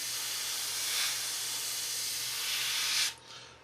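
Airbrush hissing steadily as it sprays paint lines along a scale model panel, a continuous close airy spray with two brief swells before it cuts off.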